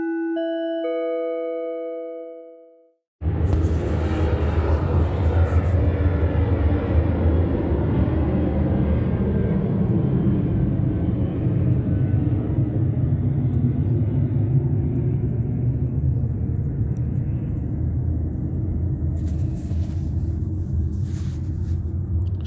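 Airplane flying overhead outdoors, a steady broad rumble that swells in right after a brief tonal chime at the start and holds loud and continuous to the end, with no talking.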